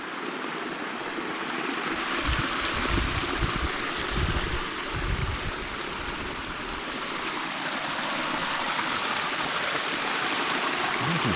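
Water trickles and flows from a natural spring coming out of a mountainside in Kanawha State Forest, a continuous soft burble in open woodland with a few louder low rumbles early on and no speech.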